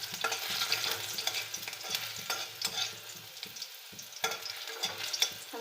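Finely chopped onions fry in hot oil in a pan, a steady crackling sizzle broken by repeated stirring scrapes, close and moderately loud with no talk.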